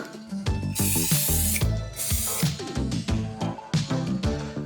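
Silicone spray hissing onto straightened hair wefts in repeated short bursts, loud and close, each blast a broad airy rush with brief pauses between.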